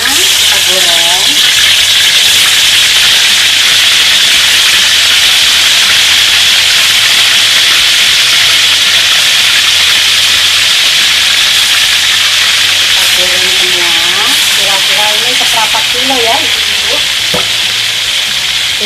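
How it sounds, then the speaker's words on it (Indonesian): Pieces of meat sizzle and spatter loudly in hot oil in a frying pan for a spicy stir-fried beef dish, a steady dense hiss with occasional stirring, no talking. "Ini daging kita mau masukkan ke penggorengan yang sudah panas minyaknya, kita goreng."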